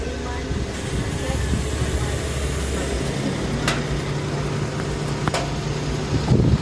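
Inside a Suzuki DA64W with an overheating problem, the air conditioning blows as a steady, broad rushing hum over the idling engine, with a couple of short clicks and a low tone joining partway through.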